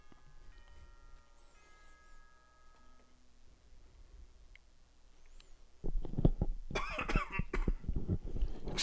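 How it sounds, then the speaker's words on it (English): Several sharp, harsh coughs burst out close to a microphone in the later half, after quiet stretches with faint tones and ticking. "I have a bit of a cough today"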